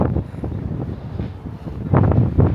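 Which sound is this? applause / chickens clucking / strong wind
strong wind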